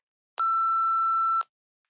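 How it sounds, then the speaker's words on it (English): An answering machine gives a single clean electronic beep, a steady tone lasting about a second, loud and alone in silence. "Leave a message after the beep"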